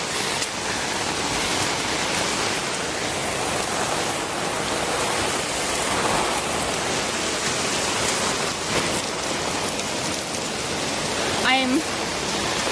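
Heavy rain pours steadily in a rural Indian village, a dense continuous hiss filling the whole scene with a brief voice near the end.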